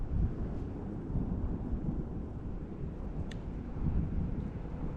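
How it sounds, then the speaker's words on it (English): Steady outdoor wind blowing during a March shellcracker and bream fishing outing, a broad continuous rush with low gusty buffeting on the microphone, fairly loud throughout and no speech. "That wind's picking up now"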